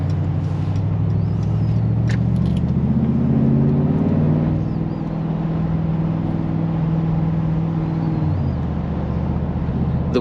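A 2024 Hofele HG 63 Mercedes G-Wagon cruises on the Autobahn with a loud, steady low engine and road drone that dips slightly near the end; a voice talks over it.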